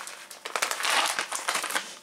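A plastic bag crinkled and crushed by hand in a series of close, bright rustling bursts that run almost continuously for about two seconds, with no voices.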